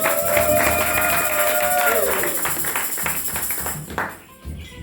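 A church congregation claps for the Lord, a dense patter of hands close by mixed with crowd voices and a sung tone early on, fading toward the end.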